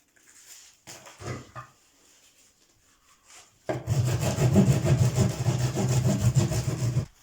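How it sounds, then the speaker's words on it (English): Rotten wood in an old house floor being broken and worked by hand, a few scattered cracks and scrapes early, then a loud close sustained grinding, rasping rub for several seconds. "This is rotten wood because it breaks like that."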